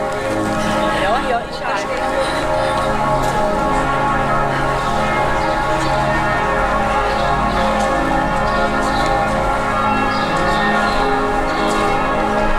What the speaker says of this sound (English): We could actually hear these bells from the campsite this morning, couldn't we?